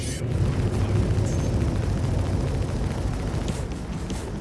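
Incoming weapons fire and explosions roar in a Star Citizen dogfight: a loud, continuous rumbling barrage with bursts and crackles layered on top, up close.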